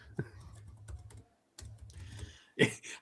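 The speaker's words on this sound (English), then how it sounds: "So much typing I have to do now because this thing's so big." Rapid irregular clicking of computer keyboard typing comes in bursts with pauses, a fairly faint sound heard near, alone with no talk, the clatter growing brighter and louder toward the end.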